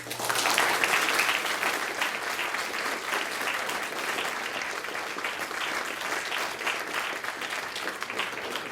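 A lecture audience at a law school claps after a talk on taxes, a loud, dense and sustained round of applause that stays even from start to finish.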